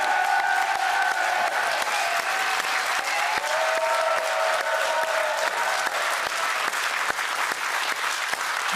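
A studio audience on a French game show claps steadily for several seconds, a dense wash of applause at moderate volume with no talk over it.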